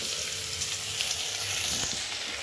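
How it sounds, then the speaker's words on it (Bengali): Potatoes frying in a pan at home give off a steady bright crackling sizzle, close and even throughout, with no voices over it. "আলু ভাজা করছি"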